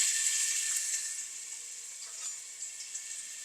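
Ginger garlic paste fries in two tablespoons of hot oil in a pan, giving a steady, bright sizzle that starts loud and settles to a softer hiss, with a few faint stirring scrapes.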